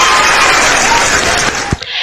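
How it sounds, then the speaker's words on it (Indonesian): Audience applause at a preaching session, a dense burst of clapping that runs steadily and loud before dropping away abruptly near the end. "Ya, tepuk tangan."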